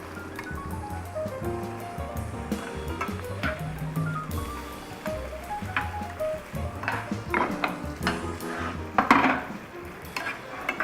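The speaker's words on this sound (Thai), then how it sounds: "เสร็จแล้วลงไปเลยนะคะ เจ้าตัวแพนเน่ที่ลวกไว้แล้ว" Boiled penne tipped into a pan of red curry and stirred, giving soft clatters, scrapes and a light sizzle that come and go beneath prominent background music.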